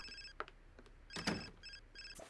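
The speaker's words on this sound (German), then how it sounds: "bei Lori geht das Telefon" A telephone rings in The Sims 4 with a bright, repeated electronic trill sounding in short bursts over faint game ambience, and a louder clattering noise cuts through the middle.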